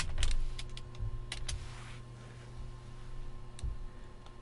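Someone types on a computer keyboard, a scattered series of light, close key clicks, with a few louder taps over a quiet room hum.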